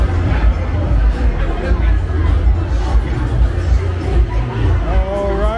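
A young crowd at a club inside a Bangkok mall fills the space with steady chattering babble and low thumping music, close and continuous, with a nearby voice speaking near the end.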